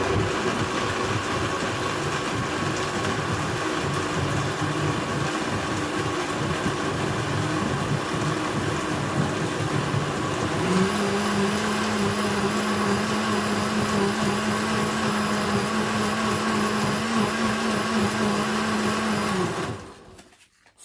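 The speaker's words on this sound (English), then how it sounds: "I am about to blend my tomato, so it's going to be a bit noisy" Tomatoes whirring in a kitchen blender for pepper soup, a steady close motor drone that shifts to a higher, strained pitch about halfway through, then cuts off abruptly near the end.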